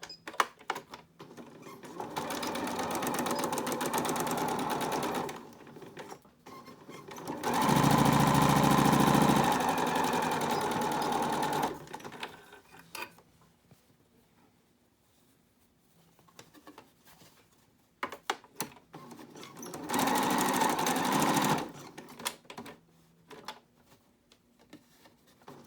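A home sewing machine stitches the lining of a fabric face mask, its motor whirring in three separate runs, two longer and one short, with near-silent pauses between.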